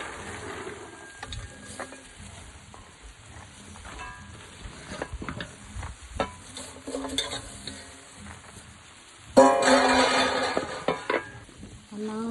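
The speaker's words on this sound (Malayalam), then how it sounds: "നന്നായിട്ട് ഇളക്കി കൊടുക്കട്ടോ." Three kilograms of washed garlic stirred and frying in a pan for pickle, with a spoon scraping and clinking against the metal over a soft sizzle, and a louder burst of frying near the end.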